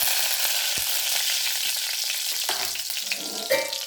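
Curry leaves frying in hot oil after mustard seeds have popped, for a tomato thokku, producing a dense, loud crackling sizzle with a few stirring knocks near the end.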